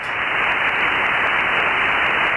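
Steady, loud radio static hiss fills the whole stretch, broadband and unbroken, the noise floor of an amateur radio receiver during a pass of the RS-44 satellite, with no voice coming through.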